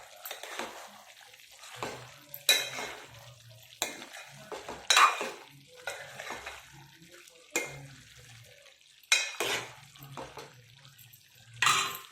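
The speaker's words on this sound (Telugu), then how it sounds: "వాటర్ అంతా ఎగిరిపోయే వరకు అలా తిప్పుతూ ఉండాలి బాగా." A spoon scrapes and stirs garlic chicken fry in a pan as the water cooks off, giving repeated sharp metallic scrapes and clinks every second or two over a soft sizzle.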